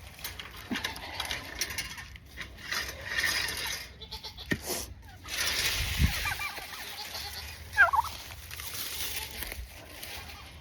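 Goats bleat now and then around a farm where turkeys are also kept, amid rustling, knocks and shuffling close by, with a person talking intermittently.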